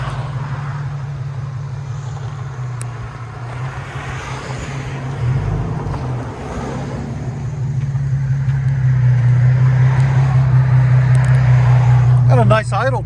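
Deep, steady idle from a 2015 Infiniti Q50 AWD 3.7L V6 with dual exhaust and muffler delete, heard up close with a low droning burble and a brief blip, while people chat over it.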